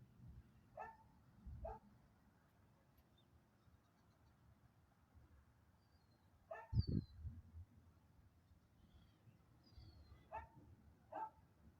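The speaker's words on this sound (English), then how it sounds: "He's barking at the thunder because he doesn't understand what's going on." A dog barks outdoors at the start of a September thunderstorm: several sharp, moderately distant barks in scattered pairs, with a brief low rumble near the middle.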